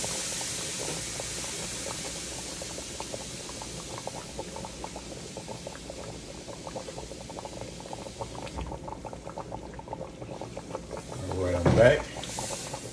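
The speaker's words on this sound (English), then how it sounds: "Now what I'm going to do is add a little water to this." Water poured into a hot pan of flour and oil for gravy gives a steady sizzle and bubbling that holds throughout, swelling briefly near the end, with no talk over it.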